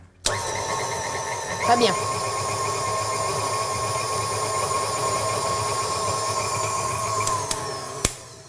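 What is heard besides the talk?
electric mixer mixing butter and sugar at moderate speed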